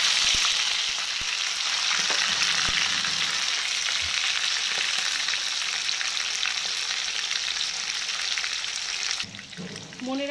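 Chicken pieces frying in a pan over a low flame, a steady dense sizzle filling the whole stretch with occasional faint knocks, until the hiss drops away near the end and a short voice-like sound comes in.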